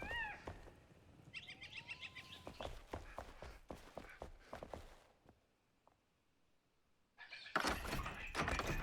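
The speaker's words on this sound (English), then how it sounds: "Oh, look at Erwin showing off all the cats." Several cats meowing in a video game, short cries scattered across a busy stretch of game noise and footsteps, with a louder burst of sound near the end.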